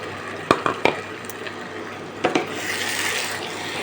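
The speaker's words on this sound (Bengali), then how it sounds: "এবার এই আলুর মধ্যে পেস্টটা ঢেলে দেবো" Chili paste scraped into potatoes in a pan, with a few sharp scrapes and rubbing knocks, then a steady soft rasping sizzle as the mixing goes on, close and fairly quiet.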